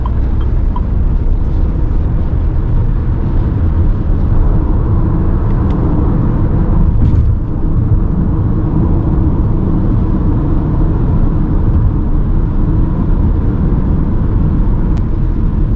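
Haval H6 Hybrid SUV accelerating hard from a stop under electric motor drive, a loud, steady, broadband rumble and road roar heard from inside the cabin, constant for the whole stretch without any voices.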